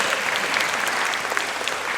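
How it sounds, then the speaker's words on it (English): An audience at a talk on the Bhagavad Geeta applauds for Bhagavan Krishna, giving a full, sustained round of many hands clapping, loud and even throughout, with no speech over it. "give a big hand of applause for Bhagavan Krishna"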